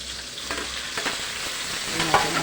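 Tomato drops into a hot pan of sizzling ginger and fries with a steady, bright crackle. Soft stirring clicks and scrapes sound up close throughout.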